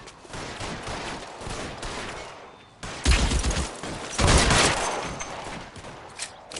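Gunfire in the LA Noire video game during a police shootout: loud, close bursts of rapid shots in clusters, separated by short gaps and followed by lingering reverberant noise.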